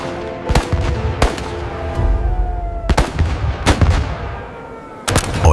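Sharp gunshots and artillery-like blasts from a World War II battle between Japanese forces with tanks and Australian troops near Oesau, Timor, loud irregular bursts over a rumbling background, with several reports spaced about a second or more apart.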